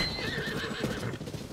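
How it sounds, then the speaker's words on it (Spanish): A giant horse in the video game Zelda: Tears of the Kingdom gives a loud, close whinny that rises and trails off over a steady game background, with no talk. "ahí está el caballo gigante de Breath of the Wild."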